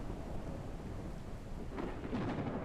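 Thunderstorm weather effect in the mining game Out Of Ore: a steady wash of rain and low rumbling thunder, with a brighter crackle swelling near the end, all fairly even and moderately quiet with no talking.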